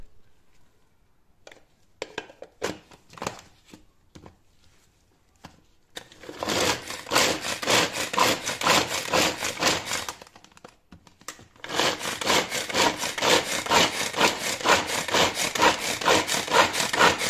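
A food chopper machine chops onion and garlic, starting with scattered knocks and rattles, then running in a loud, steady, rasping whir that stops briefly and resumes.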